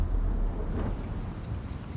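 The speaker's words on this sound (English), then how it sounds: "So, yeah, it's raining." A steady, rumbling wash of heavy video-game rain in Forza Horizon 4 with a deep low roar underneath, continuous and fairly loud, with no voices.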